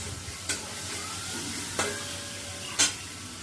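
Chopped capsicum fries in a pan with a steady sizzle, broken by three distinct scraping strokes of a stirring spoon, close and clear with no talk.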